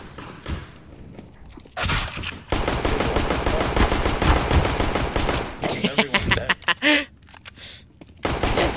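Rapid pistol fire from a Glock in CS:GO, a dense fusillade of sharp shots in clustered bursts, loud and close, with breaks and scattered thumps between volleys.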